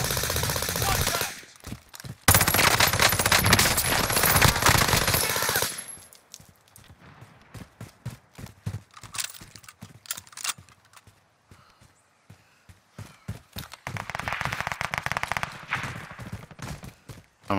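Firework rockets launching outdoors at a display: a loud sustained crackling, whooshing burst early on, followed by a scatter of sharp pops and bangs, with a second dense rush of crackle near the end.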